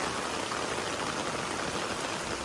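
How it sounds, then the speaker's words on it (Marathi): Steady heavy rain pours down in Vengurla, a dense continuous patter with no pauses, fairly loud and close. "आपण निघालोय आता पाऊस बघू शकताय"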